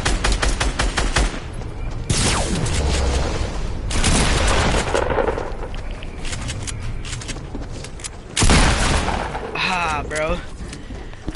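Rapid bursts of gunfire and heavy booms fill a Fortnite match, loud and dense with repeated shots in quick volleys, plus a sweeping swoosh near the end, with no talking.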